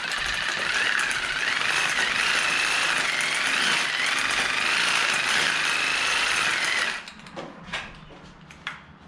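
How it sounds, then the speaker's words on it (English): A ratchet being snugged tight in a junkyard: a fast, steady, continuous metallic clicking buzz that runs loud and unbroken for several seconds, then stops abruptly, leaving a few scattered clanks and knocks. "Oh, that's why it ratchets. You gotta snug it."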